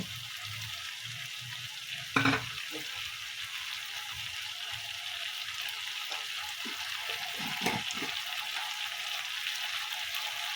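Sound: potatoes added to a frying pan, sizzling

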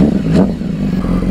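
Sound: motorcycle being pushed out and revved

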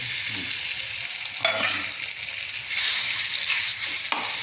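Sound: pepper chicken sizzling as it fries in oil

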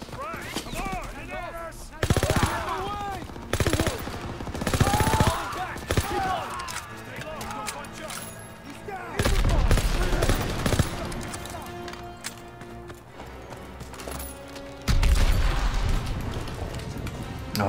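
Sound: submachine gun fire in video game Call of Duty WWII

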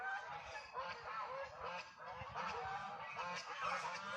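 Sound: geese honking

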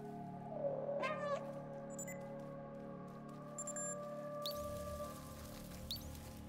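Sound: cat meowing in the video game Stray

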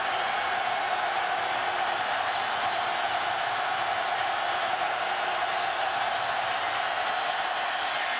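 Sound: football stadium crowd reacting

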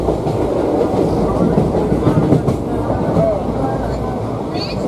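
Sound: moving train

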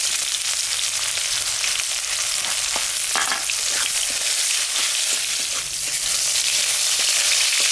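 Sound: onions frying in oil

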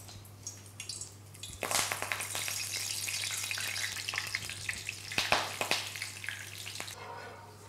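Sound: garlic chives frying in hot oil

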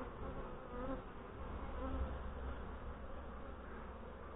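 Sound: honey bees buzzing in hive during inspection

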